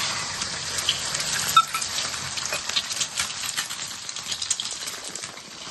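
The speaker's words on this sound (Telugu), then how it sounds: "ఇప్పుడు మనం కొట్టుకున్న ఎగ్స్ ని ఆయిల్లో వేసుకుందాం." Beaten eggs hit hot oil in a pan, giving a close, continuous sizzle full of fine crackles and pops that gradually settles to a softer frying hiss.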